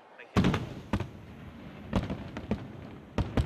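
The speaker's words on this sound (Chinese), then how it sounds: "绚丽的烟火在悉尼歌剧院上空绽放" Festival fireworks burst over the Sydney Opera House for the Lunar New Year celebration, a string of sharp distant booms at irregular intervals over a steady crowd murmur.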